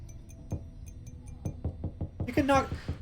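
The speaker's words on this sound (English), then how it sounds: "You can tap on the glass." Someone taps on glass in the video game Pyre: several sharp, distinct knocks spaced about a second apart, then a quicker cluster, ending under a brief burst of chirpy game sound.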